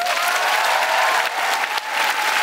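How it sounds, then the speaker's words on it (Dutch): An audience at a talk-show style debate applauds Daan Roosegaarde, a dense, loud wash of clapping sustained for the whole stretch with no voices over it. "Maar natuurlijk is het allermooiste en het allerbeste applaus van vandaag voor Daan Rozenraden"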